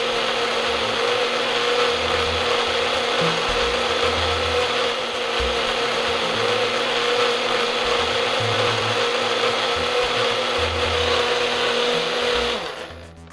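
Blender whirring steadily as it mixes an apple cinnamon oatmeal smoothie of cinnamon, oat milk and oat milk yogurt, a loud continuous drone with a grinding mechanical rattle that cuts off at the very end.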